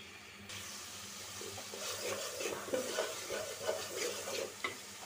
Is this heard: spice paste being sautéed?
yes